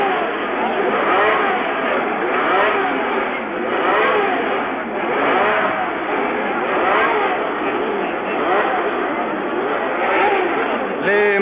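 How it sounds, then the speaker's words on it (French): Formula 1 race cars from 1970 at the Italian Grand Prix at Monza, March Ford among them, idle and rev together in a dense overlapping roar while a commentator talks over them. "Les moteurs se sont mis en route."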